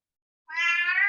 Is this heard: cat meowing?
yes